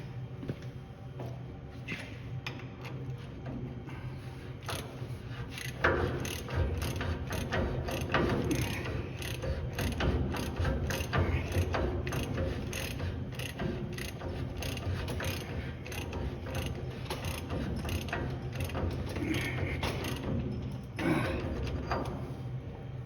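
A wrench ratchets against a nut on a Dana 70 axle bearing in a workshop, a long run of dense metallic clicks and grinding over steady background noise.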